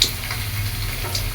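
Ingredients sautéing in a tilted frying pan while cooking adobo, a steady soft sizzle with faint scraping ticks, heard close and without talk.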